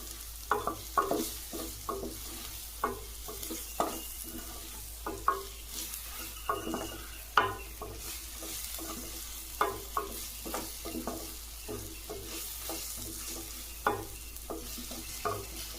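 Ingredients for a yam curry being sautéed in a pan: steady soft sizzling with repeated stirring scrapes and clinks at an irregular rhythm, close and fairly quiet, with no talking.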